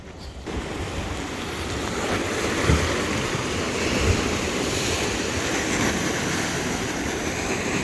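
Ocean waves rolling and washing onto the shore near cliffs on Lanzarote in a continuous roar, mixed with wind buffeting the microphone; no one speaks.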